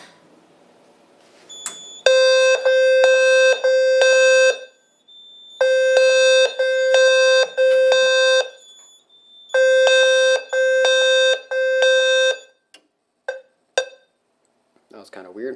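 A loud fire alarm on a Simplex 4010 system, set off from a break-glass pull station, blares in repeated bursts of rapid pulsing horn tones, pausing briefly between groups, then cuts off into a few short clicks.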